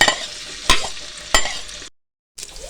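Chopped medium-sized onion sizzles in hot oil, with a spoon scraping and stirring the pan three times in sharp bursts over a steady frying hiss, then a brief silent gap before the sizzle resumes.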